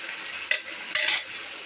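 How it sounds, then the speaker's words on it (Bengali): Quail meat stirred into hot spice paste with ginger and garlic in oil, a steady sizzle broken by two sharp scraping clatters of a spoon against the pan, close and with no talking. "মাংসটা দিয়ে ভালোভাবে নেড়ে চেড়ে মশলাটা মিক্স করে নিব"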